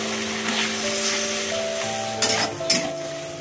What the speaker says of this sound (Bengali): একটুখানি কষিয়ে নিয়ে তারপর একটু জল দেব। দিয়ে দিচ্ছি অল্প একটু জল।